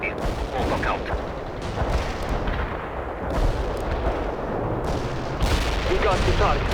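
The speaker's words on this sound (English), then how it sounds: "Our grenades hit the provided target area." Grenade explosions and gunfire from the battlefield video game World in Conflict form a dense, continuous roar of overlapping blasts and shots, with heavier bursts swelling near the middle and end.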